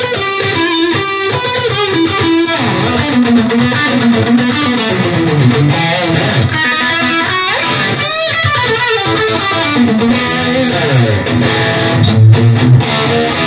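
A Maybach electric guitar plays a continuous lead passage with slightly reduced distortion, loud and close with no pauses.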